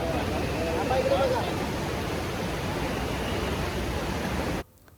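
River flowing past a temple between the main shrine and the havan hall gives a steady, broad rushing wash that holds even for several seconds before stopping abruptly, with a voice speaking faintly beneath it.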